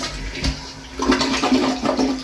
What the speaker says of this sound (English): that's why I'm gonna flush away this sticker thing